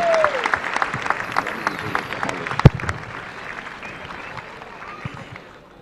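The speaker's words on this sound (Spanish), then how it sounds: "pido un fuerte aplauso para los criadores" Applause for livestock breeders at a 2022 rural exhibition, steady clapping from an audience with a sharp loud clap midway, gradually fading, with some voices underneath.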